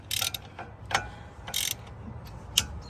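Ratchet wrench loosening a brake caliper bolt on a 2006 Dodge Dakota: a handful of crisp metallic clicks and ratcheting bursts at irregular intervals, close and moderately loud over low background hum.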